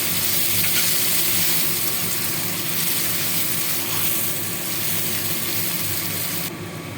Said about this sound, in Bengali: পেঁয়াজটা ভাজা হয়ে গেছে, এবার এই সজনে পাতার পেস্টটা দিয়ে দেবো।